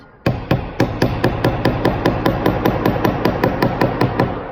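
Close, crisp hammer blows strike a metal teardrop earring resting on a metal plate, about twenty even taps in a steady rhythm, each ringing briefly into the next. Nobody speaks.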